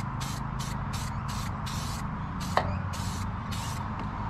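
Aerosol can spraying rust-protective paint onto a tow hitch: a run of short hissing bursts with brief gaps between them, close and steady, with a faint clunk partway through.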